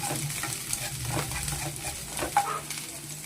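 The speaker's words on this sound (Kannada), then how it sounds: "ಎಲ್ಲವನ್ನು ಚೆನ್ನಾಗಿ ಫ್ರೈ ಮಾಡ್ಕೊಳ್ಳೋಣ. ಸ್ವಲ್ಪ ಹಸಿ ವಾಸನೆ ಹೋಗೋ ತನಕ ಫ್ರೈ ಮಾಡ್ಕೊಳ್ಳೋಣ." Onion and green chillies frying in a pan, a steady broadband sizzle with occasional stirring scrapes and clinks, close and continuous without speech.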